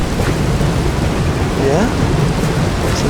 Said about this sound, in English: A nice thunderstorm for you guys.